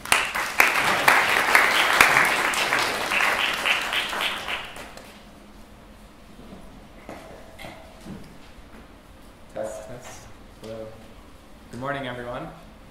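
A class audience at a UMass Amherst permaculture talk claps to welcome a speaker: loud, dense applause for several seconds that fades out, followed by scattered room noise and a voice beginning to speak.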